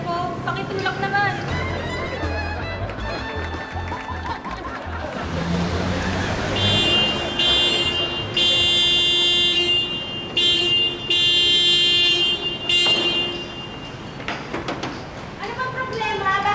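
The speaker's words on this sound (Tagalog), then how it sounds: "Bakit ba busina ka ng busina, ha?" Car horns honk repeatedly in long sustained blasts amid a traffic jam, loud and close, with people arguing over the honking and background street noise.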